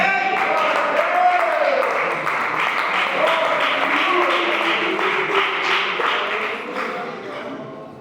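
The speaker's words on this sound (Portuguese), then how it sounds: "dá uma rajada de palmas aí que é para Jesus" A church congregation bursts into sustained applause for Jesus, a dense wash of many hands clapping in a reverberant hall, steady and moderately loud before tapering slightly at the end.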